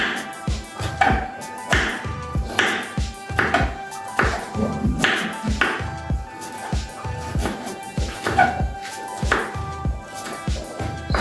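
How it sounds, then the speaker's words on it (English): A knife chops ginger rapidly on a cutting board, a steady run of sharp, close knocks repeating throughout with no pauses. "I'll go ahead and chop my ginger"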